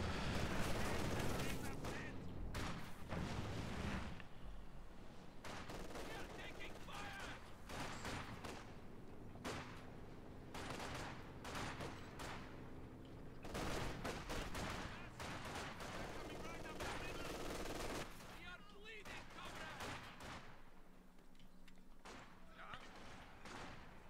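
Dense, sustained gunfire from a Company of Heroes 2 battle, with many sharp overlapping shots and bursts, machine-gun rattles and heavier thuds, loud throughout and mixed with voices talking over the fighting.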